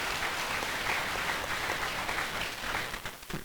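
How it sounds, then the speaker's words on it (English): Audience applause for a filmmaker on a panel about LGBTQ film at the Frameline festival, a dense, even patter of clapping from a hall crowd that holds steady, then tapers off into scattered claps. "Deb Eskenazi, yes, applause."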